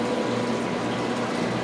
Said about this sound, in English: It's the least satisfying start to a pour ever.